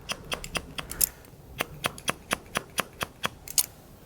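Scissors snipping hair freehand at the crown of a short haircut, a close, crisp run of about twenty quick cuts in uneven rhythm, alone with no talking.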